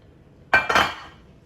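Diced whole wheat bread tossed in a metal pan, giving a short burst of two close scraping clinks lasting under a second, with quiet before and after.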